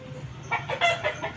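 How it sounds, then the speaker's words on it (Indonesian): Hens clucking close by in a series of short, uneven calls over a low steady background hum. "Di sini ada ayam-ayam betina."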